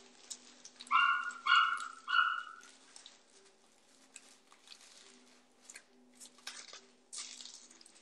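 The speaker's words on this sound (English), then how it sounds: "I don't know what he's barking at though" Three sharp barks from a dog in quick succession, fairly close, followed by scattered quieter knocks and rustles in a quiet room.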